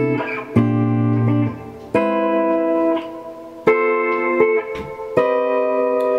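Guitar chords, including a minor major 7, strummed one at a time, each ringing out for a second or so before the next change, clean and unaccompanied.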